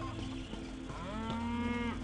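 A cow in The Elder Scrolls Online lets out a long, drawn-out moo that rises and sustains over steady background ambience, with no talking.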